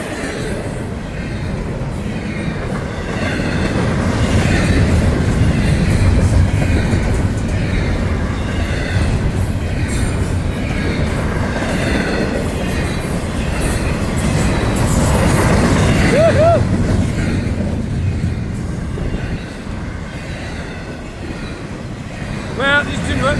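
A northbound FEC freight train rolls past a bridge work site, a continuous loud rumble of wheels and cars with clattering and occasional squeals, plus gusting wind noise, sustained for over twenty seconds before easing slightly.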